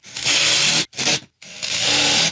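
A power driver sinks screws into the wood of a shed, three loud close whirring bursts separated by short gaps, with no voices.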